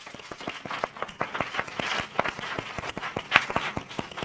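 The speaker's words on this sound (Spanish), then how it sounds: "vamos a despedir a María Esclápez con un fuerte aplauso" Lively audience applause after a book presentation, many hands clapping fast and fairly evenly, a dense crowd ovation heard from within the room without speech.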